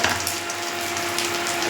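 Whole spices, fennel seeds, three cardamom pods, four cloves, cinnamon and star anise, fry in oil with a steady, close, continuous sizzle and no speech.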